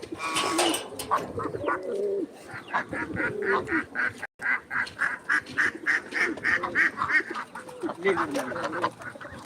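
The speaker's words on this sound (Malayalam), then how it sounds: "അതാ എൻ്റെ താറാവെല്ലാം ഇവിടെ വന്നിട്ടുണ്ട്" Domestic ducks quack in a rapid, repeated series of nasal calls at close range, with other bird noises and a person talking in the background on a home farmyard.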